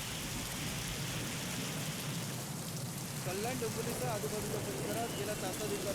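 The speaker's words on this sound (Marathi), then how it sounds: "या पावसात विजेच्या कडकडाट तसेच सोसाट्याच्या वाऱ्याचा पाऊस कोसळतोय" Heavy rain with gusting wind and thunder hisses steadily throughout, loud and enveloping, and a voice starts talking partway through.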